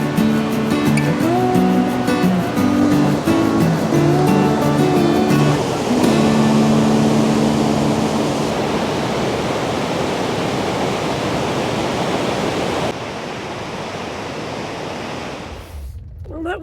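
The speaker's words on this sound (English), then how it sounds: "the river is absolutely raging" Roaring rush of a powerful raging river and waterfall in the Canadian Rockies national parks, loud and constant, with tonal humming in the first few seconds before the water dominates.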